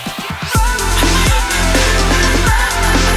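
A vocal stuttered on and off by a sidechain-triggered noise gate, sitting over a full mix with thumping kick hits about once a second and a sustained bass drone, loud and dense throughout.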